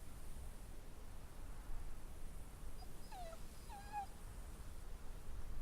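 A dog whimpers in The Walking Dead: The Final Season video game, two or three short high whines in quick succession over a low steady background hum, faint and brief.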